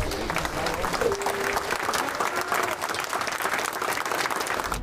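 Family, neighbors and funeral home staff applaud in a Taxco street as the funeral procession for an 8-year-old girl pauses, sustained outdoor clapping mixed with crowd murmur and voices.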